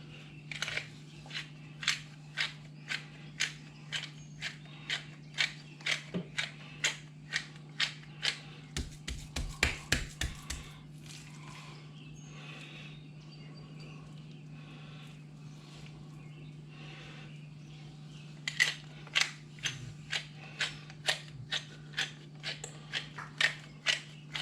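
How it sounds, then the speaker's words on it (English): A hand pepper grinder cranks peppercorns in a long run of sharp, evenly spaced crunchy clicks, pausing briefly midway before resuming, heard close over a steady low hum. "I remember buying my first pepper grinder."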